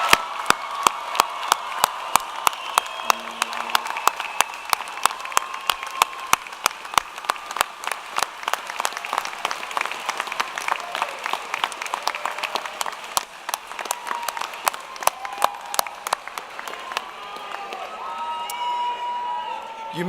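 Large commencement crowd applauds the graduates at an undergraduate ceremony, a sustained wash of clapping with occasional cheers and whoops, sharp individual claps standing out, voices murmuring underneath as it slowly thins near the end.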